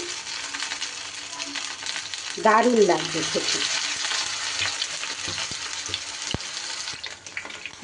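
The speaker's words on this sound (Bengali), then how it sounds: "ফ্রাইটা করছি বন্ধুরা, আপনারাও ঠিক এইভাবে করবেন।" Stuffed kakrol (spiny gourd) fries in a pan with a steady sizzling hiss, and stirring and handling noises come through part way. Someone speaks briefly over the frying.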